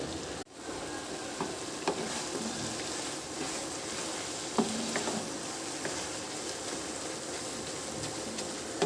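Grated carrots for gajar ka halwa fry over medium-high heat, giving a continuous soft sizzle with scraping stirs that add occasional clicks, no one speaking.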